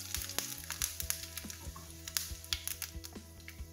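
Mustard seeds and dried chilies sizzle in hot oil for papaya thoran, giving faint, quiet frying with scattered sharp pops and ticks at irregular intervals.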